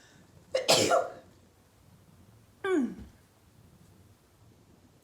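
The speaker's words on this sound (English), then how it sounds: "Good sneeze." A sharp sneeze up close, followed a couple of seconds later by a second short burst, with quiet between.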